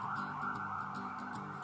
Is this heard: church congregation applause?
no